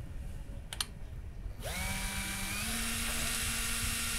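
An electric drill starts up with a rising whine and then spins steadily at a high, constant pitch, loud and close, with no voices.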